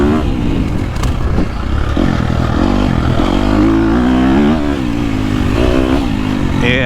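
A 2022.5 KTM 250 Factory Edition four-stroke dirt bike is ridden hard on a GP track, its engine wound up high and revving continuously with rising and falling pitch, loud and close throughout.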